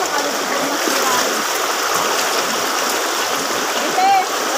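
Strong floodwater from a river swollen during Typhoon Carina: a loud, constant roaring rush of water filling the whole scene, with brief faint voices over it.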